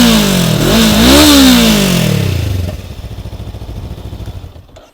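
A Honda CB500X motorcycle engine revs hard through its exhaust, rising and falling in pitch, then settles into a loud, rumbly, throbbing idle with a fast pulsing beat, close by with no voices.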